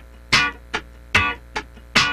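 Five sharp, muted funk guitar strums land in an even rhythm, with louder downstrokes alternating with softer ones, played alone.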